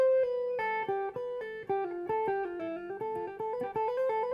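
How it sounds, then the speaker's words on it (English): A clean electric guitar plays a quick run of legato notes, smooth hammer-ons and pull-offs flowing one into the next, played solo and fairly quiet. "Or you can use hammer-ons and pull-offs."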